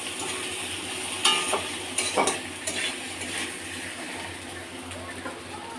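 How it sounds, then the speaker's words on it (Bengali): Ginger paste and turmeric powder frying in a pan as they are stirred, with a steady low sizzle broken by a few sharp scrapes and knocks of a utensil against the pan. "হলুদ গুঁড়োটা দিয়ে আদা বাটাটা দিয়ে আবার একটু নাড়বো।"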